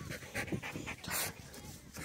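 A dog panting in quick soft bursts up close with faint whimpers, on a beach by the Dune du Pilat in France, quiet and breathy.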